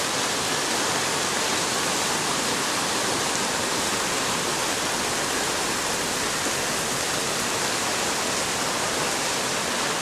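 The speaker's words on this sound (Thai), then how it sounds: "แม่น้ำสายก็ล้นฝั่งแล้วค่ะ" Floodwater from the overflowing Sai River surges through Mae Sai town in a flash flood, a loud, continuous, broadband roar with no pause.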